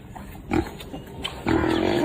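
Pig grunting and oinking in short bursts, close and moderately loud, with a second longer grunt near the end.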